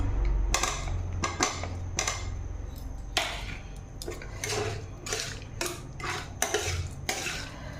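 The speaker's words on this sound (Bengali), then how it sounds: "এবার কেটে রাখা আলু দিয়ে দেবো, হাফ সেদ্ধ করে রাখা আলু" Half-boiled cut potatoes tipped into a pan of spiced masala for jackfruit kofta curry, with clattering metal utensil knocks and scrapes against the pan over a low, steady background hiss.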